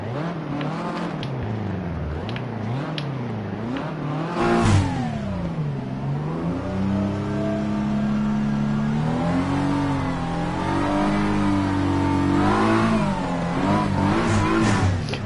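A BMW M4 race car engine in a racing video game revs up and down repeatedly, rising into a sustained loud acceleration whine with shifting pitch over fifteen seconds, close and alone.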